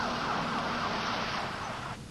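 An ambulance siren wails continuously as the emergency vehicle pulls away from a home after a dishwasher electrocution call, loud and steady before dropping off sharply at the end.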